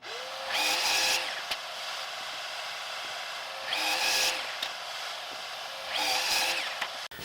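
Power saw cutting wood boards to length against a stop block, three separate cuts, each a rising whine that bites into the board and then spins down, close and fairly loud with quiet pauses between.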